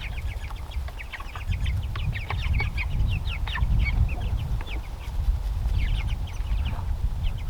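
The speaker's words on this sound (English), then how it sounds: "Right now the meat chickens are just eating what's on the ground." Meat chickens cluck and chirp continuously as they forage and eat off the ground, a steady flock chatter close by over low rumbling background noise, with no talking.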